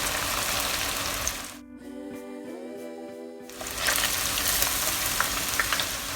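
Battered fish pieces fry in hot oil in a pan, a dense, loud sizzle that drops out briefly and then returns at full strength.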